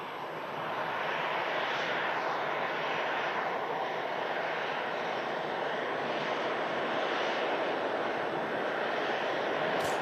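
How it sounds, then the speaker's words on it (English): An arriving airliner at Manchester Airport produces a steady, moderately distant jet roar that swells in and holds evenly, with no talking. "as this aircraft's just arriving in"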